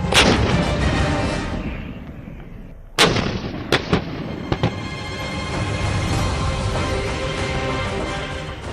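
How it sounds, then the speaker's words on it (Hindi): Indian Army artillery fires at the Mahajan field firing range in Rajasthan, with a loud booming blast and long rumbling echo, followed by a few sharper distant shots and continuing rolling reverberation. "राजस्थान का महाजन फील्ड फायरिंग रेंज इन गोलाबारी की आवाजों से गूंज"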